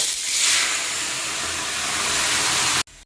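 Tomatoes and slit green chillies dropped into hot oil tempered with dried red chilli and mustard seeds give a loud, close, continuous sizzling hiss that cuts off abruptly near the end.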